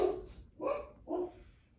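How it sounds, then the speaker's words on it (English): Dogs barking indoors, likely at a bird or a passing trash truck: about three short bark bursts spaced roughly half a second apart, moderately loud and close, with quiet pauses between. "the dogs are defending me against, I'm sure, like a bird or the trash truck"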